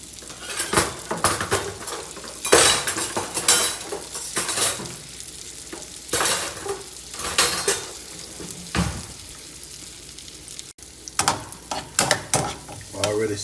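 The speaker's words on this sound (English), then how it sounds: "Y'all hear that? That sizzle." Food sizzling in a frying pan on a home stove, steady crackling hiss broken by repeated scraping and stirring with a utensil and occasional clinks of metal against the pan.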